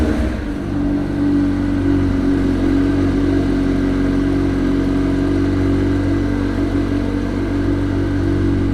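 A 2019 McLaren 720S Spyder starts up, a quick catch then a loud, steady, deep idle with a rough, throbbing rumble holding close and even for several seconds.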